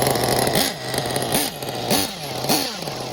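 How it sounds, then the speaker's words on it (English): A nitro RC truck's 454 glow engine fitted with a turbo head runs loud and close, its pitch rising and falling in repeated revving blips roughly every half second over a steady buzzing idle. "This 454 engine, which has a turbo head, is my best running engine I think I've ever experienced in my entire life."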